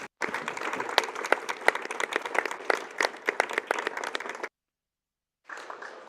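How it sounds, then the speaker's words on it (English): Conference audience applauding a climate change panel, dense clapping of many hands for several seconds, then a break and a shorter second burst. "please join me with a big applause for this fantastic panel"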